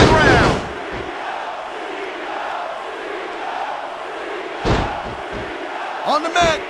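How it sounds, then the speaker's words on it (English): In the Smackdown vs RAW 2006 video game, a wrestler is slammed hard into the mat at a Great American Bash match. Sharp impacts open and cut through a steady roar of arena crowd noise, with further thuds near the end. "He just drove his opponent straight into the ground."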